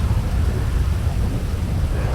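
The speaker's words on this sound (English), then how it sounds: "instead of standing out here in the rain" In GTA V during a wintery afternoon in Sandy Shores, rain pours as a steady dense hiss with a deep thunder rumble rolling beneath it, loud and continuous for a couple of seconds.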